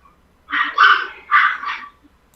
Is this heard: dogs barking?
yes